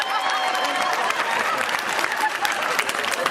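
A cruise-ship comedy cooking show audience claps for Dane's cake in a steady, dense burst of applause with faint crowd murmur, sustained and even throughout.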